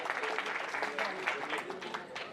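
An audience claps loudly and steadily at a Hindi poetry gathering, a dense wash of applause sustained throughout.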